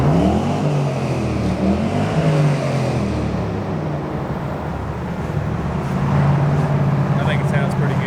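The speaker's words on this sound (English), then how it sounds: "3-inch Flowmaster sound damn good in a tunnel" An LS-swapped car with a 3-inch Flowmaster exhaust revs inside a tunnel, its loud, booming drone rising and falling while the echo fills the space. Traffic rumble is also present.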